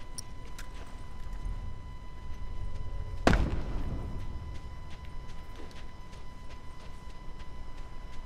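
In The Last of Us Remastered, a grenade goes off on a beach level as a single sharp, loud blast midway, leaving a decaying rumble over a steady background hum.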